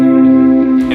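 An electric guitar chord rings loud and sustained for about a second from a single strum, with a distorted, echoing effects tone, with no voices, as part of a song.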